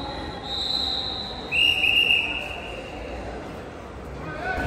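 A Dhaka Metro Rail train near Uttara station gives off high, thin wheel squeals in two drawn-out tones over a soft, steady rolling hum.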